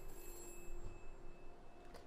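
A telephone rings in the video game We Happy Few, a faint, steady electronic tone that holds unbroken for about two seconds over a soft background hum, with no talking.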